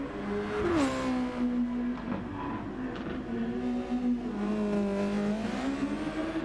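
A race car engine in a Gran Turismo FIA Nations Cup race is held hard on the throttle, its steady harmonic drone rising and falling in pitch as it revs, loud and continuous throughout.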